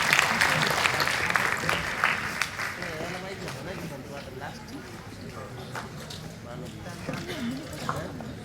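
Audience applause for students at a district-level school math bee contest, a broad wash of clapping that starts strong and continues steadily under some talk and crowd noise.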